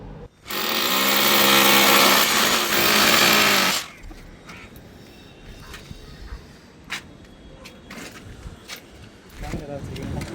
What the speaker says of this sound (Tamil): அதனால தான் அதை கூட கட்டிட்டு வேறு ஒரு இடத்துல வந்து ட்ரில்லிங் பண்ணுறாங்க